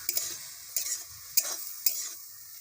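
Boiled fenugreek greens fry in a pan with a soft, steady sizzle. Four sharp scraping strokes of a spatula stir them at a close, even pace, with no voices.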